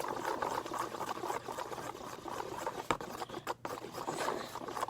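Food coloring is stirred into glue for slime, producing soft, sticky scraping and squelching sounds in an irregular rhythm, close and fairly quiet, with a small tap midway and no talking.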